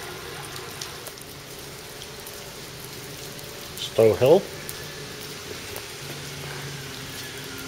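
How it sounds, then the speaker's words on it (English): Steady rain pours down in Newport town centre as a constant wash of hiss, with a brief voice speaking partway through. "that noise is the rain"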